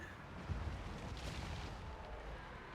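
Cannons firing during a Total War battle in a Steel Championship elimination match, heard as a continuous rumble of booming artillery with a few sharper thumps, dense and fairly loud throughout.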